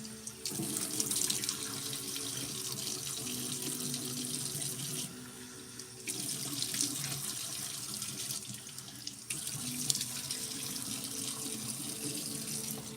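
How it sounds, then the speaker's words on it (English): Tap water runs steadily into a sink while someone rinses off a gentle facial cleanser, a continuous close splashing hiss with brief dips in flow and no talking. "Okay, we're rinsing our face off."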